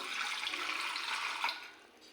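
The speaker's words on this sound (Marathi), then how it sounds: "त्याच्या टोपामध्ये पाणी घेऊया" Water poured into a pot, a short steady hissing gush close by that fades out after about a second and a half, quiet, with no voices.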